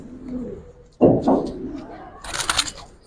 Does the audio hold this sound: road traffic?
no